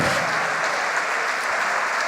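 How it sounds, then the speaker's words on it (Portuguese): A church congregation applauds during a sermon, a dense steady wash of many hands clapping together, loud and even for the whole stretch with no voices rising above it. "vamos aplaudir mais"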